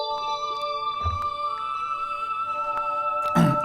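Space Singers synth preset in FL Studio, a sustained airy choir-like pad chord with layered steady tones, lightly pulsing, ending in a brief louder burst of noise.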